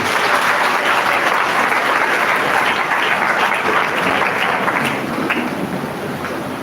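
Sustained, dense applause from a congregation at a Mass celebrating a priest's twentieth anniversary of ordination, loud and close, holding steady before easing slightly near the end.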